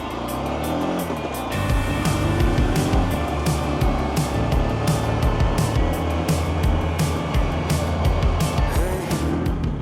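A Honda CB125F motorcycle starts and pulls away, its small single-cylinder engine settling into a steady running drone with shifting revs and wind buffeting, close and continuous throughout.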